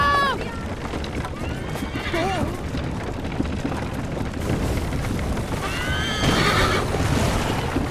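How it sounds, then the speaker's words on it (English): In Assassin's Creed Liberation, a horse whinnies repeatedly over galloping hooves and loud rumbling, with voices shouting through the chaotic, dense mix. "Mel, on the horse, now."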